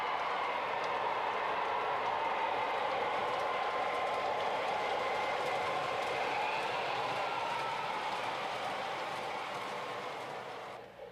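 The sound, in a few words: O gauge model train locomotives running on track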